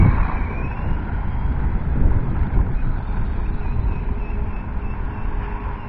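A HoSpeed Hurricane HS18322 4WD 1/18 scale RC truggy with friction shocks drives continuously, its motor and tyres making a loud, rough, steady whirring noise with no pauses.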